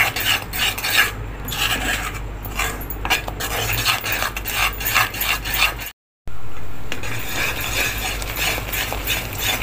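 Gram flour mixture being stirred in a pan for Mysore pak, a busy scraping and clinking of the spoon against the pan, steady and close, with a brief dropout partway through.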